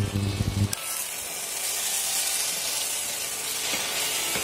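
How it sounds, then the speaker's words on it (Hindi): Tapioca pearls (sabudana) fry in hot ghee for a Navratri kheer, starting with a brief clatter as they go in, then a steady close sizzle and hiss that holds evenly to the end, no talking. "तो साबूदाना को घी में फ्राई कर लेते हैं।"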